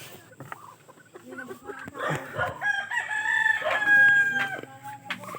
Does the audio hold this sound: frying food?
no